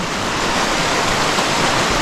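A river runs steadily beside an abandoned village in a mountain valley, its broad rushing wash of water close and constant, with no talk over it.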